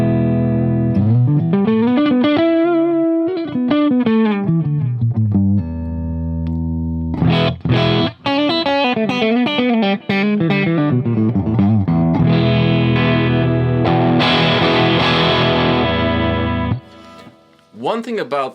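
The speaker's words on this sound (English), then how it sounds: "I have my Marshall Plexi, which isn't entirely clean, and I have some delay in the loop." Electric guitar, a cheap 80s Dean Custom Zone, played through a slightly overdriven Marshall Plexi with delay in the effects loop, sounding loud and continuous with sliding lead lines and then strummed chords and trailing repeats.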